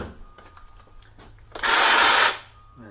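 A Ryobi One+ 18V cordless hedge trimmer whirs loudly for under a second in a brief burst, preceded by light handling clicks and rustling, close by.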